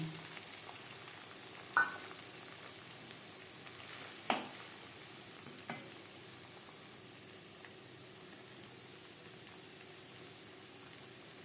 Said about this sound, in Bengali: এই তেলেই হয়ে যাবে আর আমি তেল অ্যাড করছি না ঠিক সেন্টারে দিয়ে দেব ফেটিয়ে রাখা ডিম